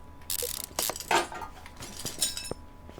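Mechanical ratcheting and metallic clicks as a car wheel is bolted on in Car Mechanic Simulator 2015, a few close, quick bursts with short gaps between them.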